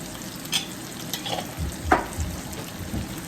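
Paneer tossed with chilli powder, sambar powder, coriander powder and salt in a frying pan, a spoon scraping and stirring in a few soft strokes over a low sizzle, close by with no talk.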